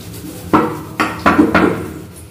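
A rusty metal dinner plate clanks and clatters as it is handled and scrubbed: four short, hollow knocks at uneven intervals, close and fairly loud, with no speech.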